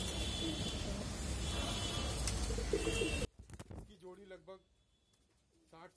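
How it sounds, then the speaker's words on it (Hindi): Pigeons cooing among antique fancy breeds including a very long-bodied bird, first buried under a dense, loud wash of noise for about three seconds, then clearer low coos heard close by against quieter surroundings. "सबसे लंबा कबूतर ये है"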